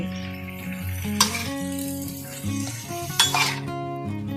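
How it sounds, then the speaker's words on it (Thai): Vegetables and fresh chilies are stir-fried in a pan with a soft sizzle while a utensil clinks and scrapes against the metal, and tonal background music plays throughout. "เราผัดสองชนิดนะคะผัดผักผัดพริกสดผักหอมพนานะคะ"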